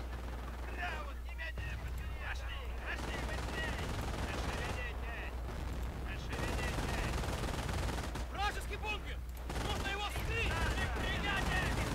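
Steady machine gun fire and scattered gunshots from a World War II Normandy D-Day battle in Company of Heroes, carrying on through the whole stretch beside a constant low engine drone, with faint talk underneath.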